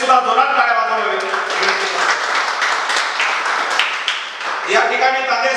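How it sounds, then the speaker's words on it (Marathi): Audience at a Marathi event at an addiction-recovery centre clapping loudly and continuously for several seconds, a dense, even wash of applause. "त्यांच्यासाठी सुद्धा जोरात टाळ्या वाजवाव्या"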